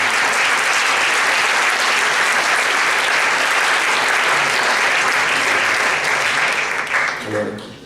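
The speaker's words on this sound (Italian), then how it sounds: "Fate un applauso." Sustained audience applause fills a literary award ceremony for the Premio Prunola 2017, dense and steady throughout before tapering off at the very end, where a voice briefly starts.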